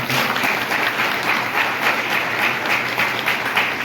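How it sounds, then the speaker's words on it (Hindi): Audience applause at a village gram panchayat gathering attended by judges, a sustained, dense round of clapping from a crowd, loud and even throughout with no break. "अब ताली बजाओ"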